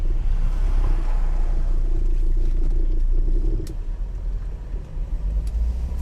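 A 1984 Mercedes-Benz 300CD W123 turbo diesel coupe drives along with a steady low engine rumble and road noise from inside the cabin, easing slightly toward the end.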